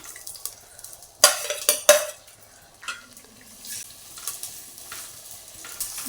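Chopped onion, ginger and green chili hitting hot oil for a mackerel fish curry, with sharp pan clatters and sudden bursts of sizzle, then a quieter, uneven frying crackle with stirring scrapes.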